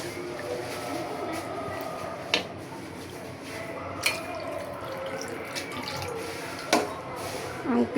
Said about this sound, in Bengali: তাই ঝোল বেশি দিলাম, ঝোলের পানি